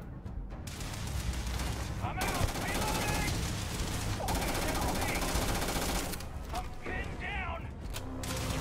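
Gunfire from a fight with pirates in the Starfield video game, bursts of shots with mechanical clatter running loud and dense through the clip, with game voices mixed in.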